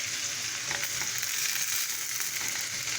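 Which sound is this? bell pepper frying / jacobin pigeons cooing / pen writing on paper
bell pepper frying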